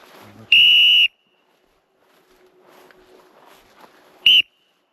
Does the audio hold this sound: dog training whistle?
yes